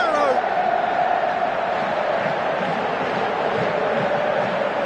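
A football stadium crowd in the PES video game roars and cheers in a dense, loud, continuous wash, with commentary voices mixed in.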